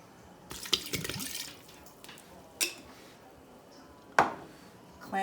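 Clam juice from a can splashes into a pot already holding flour and vegetables, a few short liquid pours and clanks with brief gaps between them, fairly close.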